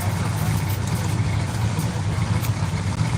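Two-wheel drive truck engine running at a truck pull championship in Rockwell, Iowa, a steady low idling rumble with slight revving under outdoor event ambience, sounding close and continuous.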